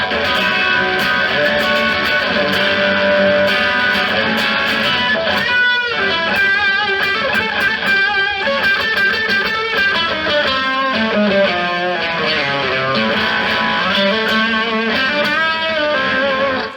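An electric guitar through a fuzz pedal plays chords and riffs continuously with a thick, saturated, heavily distorted tone, loud and up front, no voices.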